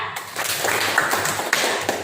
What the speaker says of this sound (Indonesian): Tepuk tangan untuk Zakia